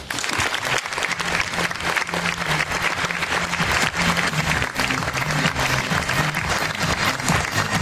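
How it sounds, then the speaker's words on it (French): A gala audience at a Miss Excellence Oise beauty pageant applauds loudly and continuously, a dense sustained wall of clapping with low musical tones playing beneath it. "Je vous demande d'accueillir et d'applaudir Angélique Pluchart, Miss Prestige N et première dauphine Miss Prestige Picardie 2015."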